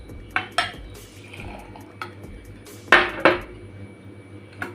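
A spoon clinks against the sides of a jug while stirring sugar into cold water, with sharp metallic taps and scrapes in irregular clusters and quiet liquid swirling between them, close by.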